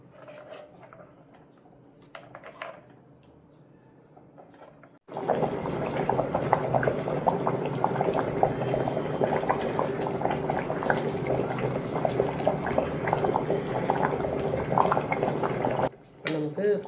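A pot of mutton thanni kulambu, a thin Tamil mutton curry, boils steadily with a continuous bubbling and simmering, close and fairly loud. The first five seconds are quiet before the boiling starts abruptly, and it cuts off briefly near the end.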